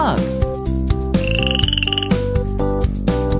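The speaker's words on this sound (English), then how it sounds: "Frog," A frog croaks in short repeated bursts over bouncy children's music, with a brief high whistle-like tone in the middle.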